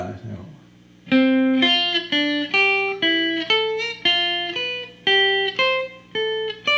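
An electric guitar plays a rising sequence of fourth intervals in the second octave, about a dozen evenly spaced two-note plucks, clear and close, after a brief bit of speech at the start.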